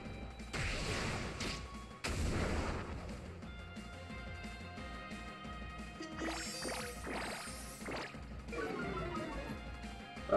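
Spirit Shackle attack from the Pokemon Sun video game, a run of loud crashing, whooshing battle effects with sharp impacts and sweeping tones, heard alone without talk.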